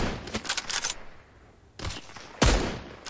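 Sniper rifle shots ring out in the Mist Survival video game: a rapid cluster of loud cracks, then two more separate heavy reports, each followed by a short echoing tail.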